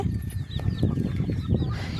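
Chickens pecking at scattered rice in a village coop, soft clucks and short calls with scratchy pecking noises close by, steady and unhurried.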